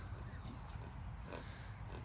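A herd of pigs and piglets on a farm grunts and snuffles in a low, continuous murmur, faint and somewhat distant, with no talk over it.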